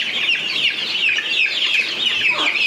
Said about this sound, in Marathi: ही आपली दुसरी फायटर पिल्लं आहेत, आणि ही सर्वात मोठी जात आहे